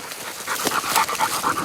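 A trained female hunting dog panting hard during a wild partridge hunt in Corsica: quick, close, rhythmic breaths repeating steadily, with no talk.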